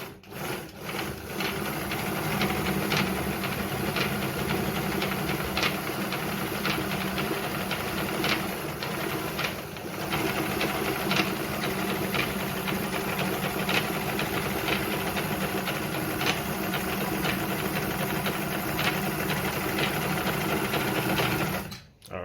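Jones model 461 sewing machine running steadily while sewing stitch pattern number 2, a continuous close motor hum with rapid rhythmic needle clatter and no speech over it.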